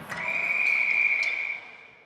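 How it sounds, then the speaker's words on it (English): A referee's whistle at an ice hockey game sounds one sustained, shrill blast lasting over a second, clear and fairly near above faint arena background. "And we get a whistle."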